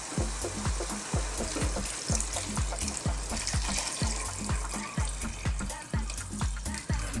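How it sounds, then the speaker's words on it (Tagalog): Chicken stock pours into a soup pot with a steady splashing gush, broken by regular low thumping pulses, close and fairly loud with no talking. "Ngayon po, lalagyan na natin yung ating chicken stock."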